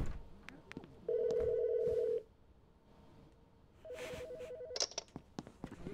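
A telephone rings in the video game Dale & Dawson, two electronic ring bursts separated by a pause, close and clear, with clicks and soft game noise between them and no talk.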